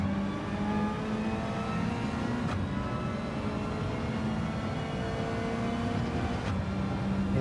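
Race car engines from a Renault and a Ferrari in Gran Turismo 7 Gr.4 lobby racing drone steadily and loudly throughout, with sustained harmonic engine tones and occasional shifts in pitch as the cars run close together; no talking.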